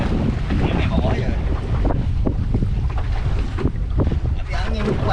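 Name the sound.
strong wind blowing at sea on a fishing boat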